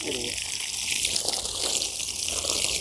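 Steady hiss of water sprayed over a vermicompost bed on a small farm, broadband and continuous for the whole stretch, with faint speech-like sounds mixed underneath.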